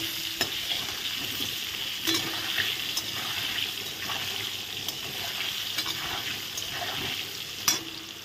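Potatoes coated with salt and turmeric frying in oil for a chicken curry, an even crackling sizzle up close with repeated sharp spatula scrapes and stirs every second or so, no speech.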